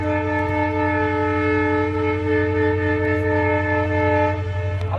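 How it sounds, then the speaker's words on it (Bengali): A train horn blares in one long, steady, loud tone that holds for the whole stretch, layered over a constant low rumble of the approaching train, with no talking. "ট্রেন আসছে আবার, এ নিয়ে দুবার হচ্ছে।"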